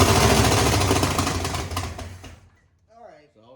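A square body truck's engine fires up after fuel is poured in, a loud, harsh, rapidly pulsing roar for about two seconds that cuts off abruptly, followed by brief talk.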